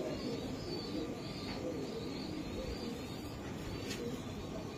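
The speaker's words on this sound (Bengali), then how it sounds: "ওই যে কবুতর" Racing pigeons coo softly in a loft, their low calls blending into steady broadband background noise, with a few faint chirps throughout and no talking.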